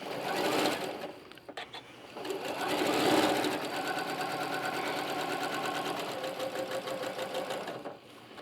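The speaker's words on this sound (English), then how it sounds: "Okay, so now we're going to stitch this seam." A sewing machine runs steadily, stitching a quilt seam with a continuous buzzing drone that pauses briefly near the start, then hums evenly until it stops.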